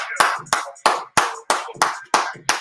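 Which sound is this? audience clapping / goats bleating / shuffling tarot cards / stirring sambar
audience clapping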